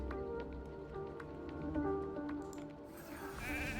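A sheep bleat from a sheep transformation ability in a video game sounds briefly over a busy game soundscape of tonal effects and chimes, moderately quiet and without talk.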